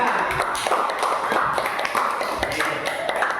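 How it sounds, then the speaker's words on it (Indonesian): Schoolchildren clap together for a classroom group of presenters, a dense patter of many small hands close by, steady for a few seconds. "kasih tepuk tangan buat kelompok 3"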